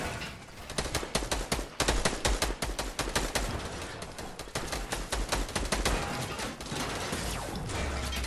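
Gunfire from many players rattles through a video game: dense, rapid bursts of sharp shots crackling almost without pause, loud and close throughout.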